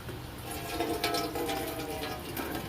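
Old fuel being poured out of a Coleman 200A black band lantern, a steady close liquid trickle and splash running continuously under faint background noise.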